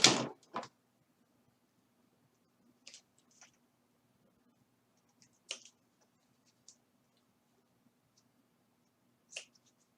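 Scissors trimming the frayed ends of a folded fabric strap: a handful of sharp, isolated snips and clicks spaced several seconds apart over a quiet, faintly humming room.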